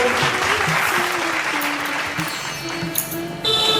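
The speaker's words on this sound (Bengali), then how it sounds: "একবার জোরে হাততালি বাবলির জন্য।" A crowd at a Women's Day award show applauds loudly and steadily for nearly four seconds, the clapping swelling again near the end, with music or voices faintly beneath.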